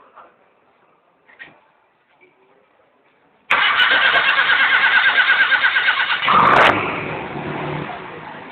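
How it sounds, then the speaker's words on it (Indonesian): A car engine is cranked over with a sharp whirring start during a conventional tune-up, catching at once and settling into a loud, steady idle after a brief squeal, following a few quiet clicks and taps. "Hidupkan mesin sampai mesin panas."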